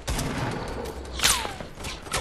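Gunfire in a hectic multiplayer shooter video game, a rapid fusillade of overlapping shots with one louder close blast midway, loud and continuous throughout.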